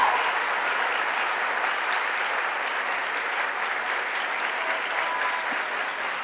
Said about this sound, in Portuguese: As palmas são para nós